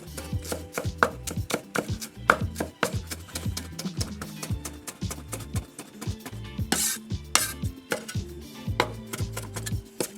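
Ginger is cut into matchsticks with a big Chinese cleaver, giving rapid, steady chopping knocks on a board that continue for about ten seconds without talk.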